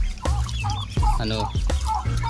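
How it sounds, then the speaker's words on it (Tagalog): Ducks being picked out for a duck adobo in coconut milk, a few close, loud quacks and clucking calls in short uneven bursts over a farmyard background. "pipili tayo ng mataba-tabang itik"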